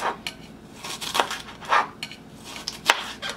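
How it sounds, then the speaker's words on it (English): A knife slices onions on a cutting board, with several distinct sharp chops and knocks at an uneven pace, close and clear, with no talking. "Next I'm slicing the onions"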